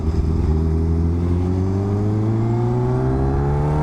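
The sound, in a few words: Kawasaki H2R motorcycle engine revving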